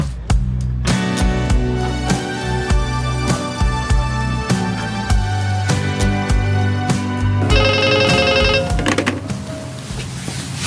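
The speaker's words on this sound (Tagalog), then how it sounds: "itaman pa yung agring ti telepono iti salas" A telephone rings in a living room, loud repeated electronic trills in bursts filling the whole stretch, with a brief higher ringing pattern near the end and no talk over it.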